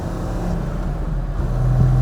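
1953 Mercedes 220 saloon engine pulling strongly while driving, a loud steady low drone with a rising tone toward the end, heard from inside the car with no talk.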